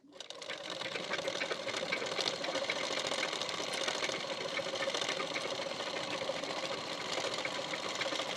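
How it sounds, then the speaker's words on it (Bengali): Sewing machine running steadily, stitching close along the edge of a border attached to a boat neck blouse; a continuous close, loud whirring hum with no pauses and no talk. "বর্ডারের ঠিক কানা বরাবর করে একটি চাপ সেলাই দিয়ে নিতে হবে"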